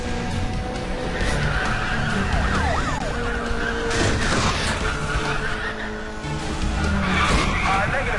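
Police car siren wailing and cars skidding in the racing video game Need for Speed: The Run, with engine roar, sweeping siren tones and tire screeches layered continuously and loudly under a speaking voice.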